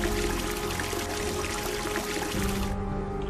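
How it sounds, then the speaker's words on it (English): Water turned on in the video game Clockwork Tales rushes and pours in a steady, loud, continuous stream throughout, with no speech over it. "And now we're gonna turn the water on."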